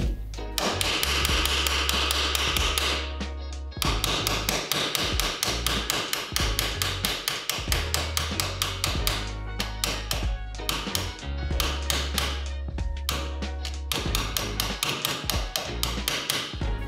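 A hammer repeatedly whacks the tie rod of a Mk1 Volkswagen Jetta, with loud, rapid metallic strikes in several long bursts separated by brief pauses.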